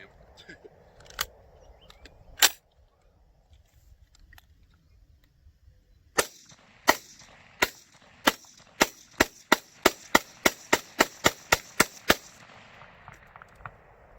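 Chinese Type 56 SKS rifle fitted with a jam-prone drum magazine firing outdoors: two sharp isolated shots, a pause, then a rapid string of about a dozen evenly spaced loud cracks.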